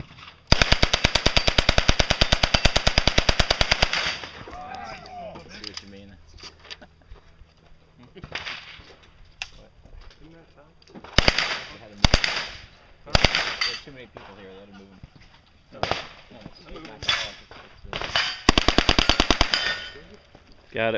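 Rapid bursts of full-auto subgun fire at an outdoor shooting competition, a long loud burst up front then shorter volleys and single sharp shots, with people talking between strings of fire.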